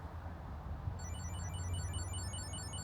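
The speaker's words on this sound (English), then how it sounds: "my wallet starts ringing" A wallet tracker card rings after being triggered from a phone, giving a faint, steady series of high electronic beeps over a low background hum.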